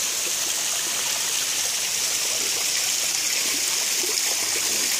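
Water pours steadily into a cold-water thermal pool at a hot spring spa in Honduras, a continuous loud close rushing gush with no talk over it.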